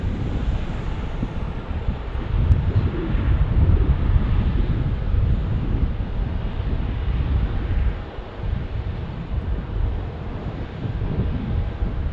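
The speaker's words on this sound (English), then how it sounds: "here comes the wind starting to pick up" Wind gusting at Phoenix Sky Harbor airport, a steady low rumbling roar buffeting the microphone for the whole stretch, easing slightly toward the end, loud and close.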